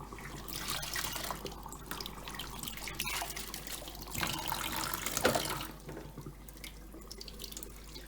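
Water splashing and trickling from a tap as washable Dyson DC33 vacuum filters are rinsed and squeezed out in a sink, a steady, close, fairly quiet flow with occasional louder splashes.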